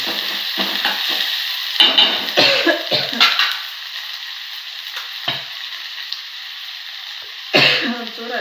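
Mustard seeds, cumin, curry leaves and garlic crackle in a generous amount of hot oil, with bursts of sizzling and spluttering that swell and fade alongside stirring scrapes, loud and close.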